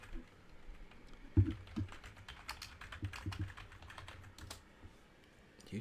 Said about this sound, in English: Gotta clear a little room for my typing hands.